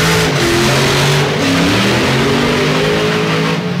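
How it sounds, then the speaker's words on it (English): A Top Methanol A-fuel drag car's engine roars loudly and continuously through a burnout during qualifying at Santa Pod, the pitch rising and dipping as the throttle is worked, with no talking over it. "that's pedalling an A-fueler on the burnout"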